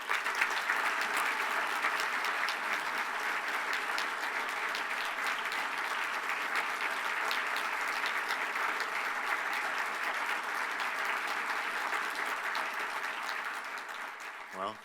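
Sustained, loud applause from a dinner audience welcoming a speaker to the stage, holding steady for about fourteen seconds before fading out.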